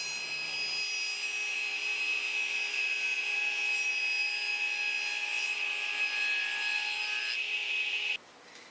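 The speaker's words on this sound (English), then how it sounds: "By pushing the wood through with the blade set at an angle, I get a perfectly raised panel every time." A table saw with its blade tilted to about 10 degrees cuts a raised wood panel: a steady, loud whining drone holding for about eight seconds, then dropping away abruptly as the cut finishes, with no voices.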